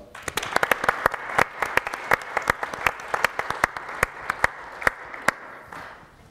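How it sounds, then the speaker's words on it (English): A moderate audience claps at an entrepreneurship event, individual hand claps standing out sharply and irregularly over a softer bed of applause, then fading out near the end. "Please give him a round of applause."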